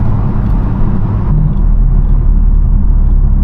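BMW M4 driven while shifting with magnetic paddle shifters, a loud, steady engine and road rumble from inside the car with a slight shift in tone partway through, no voices.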